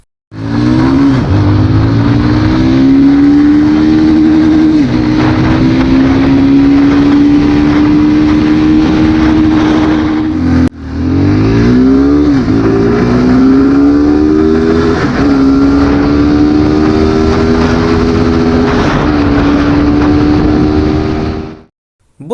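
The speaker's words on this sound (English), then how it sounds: "The exhaust of the Gixxer 250 gets a double barrel setup and it gets a lot of chrome treatment. The exhaust note is also better than its counterpart." Suzuki Gixxer 250 motorcycle with a double-barrel chrome exhaust, a loud, steady engine drone that holds its pitch and rises slightly, with one brief break in the middle, close and alone.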